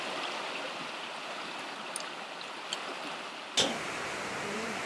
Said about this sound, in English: I do believe this is creek crossing number 12.